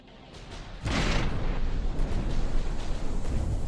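A heavy explosion goes off in the naval combat game From The Depths, with a sudden broadband boom and a sustained rumbling roar afterward. Faint crackles sit on top, and no one speaks.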